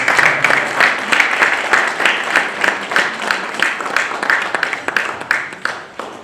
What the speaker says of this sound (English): Please keep clapping those hands.